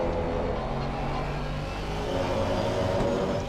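A race car engine drones steadily in the distance at an endurance race at Kyalami, a continuous revving rumble with no talking.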